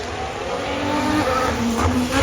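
An Alfa Romeo Formula One car at the 2022 Singapore Grand Prix qualifying brakes hard, its engine note dropping against a steady roar of trackside noise, continuous and fairly close, with no talk.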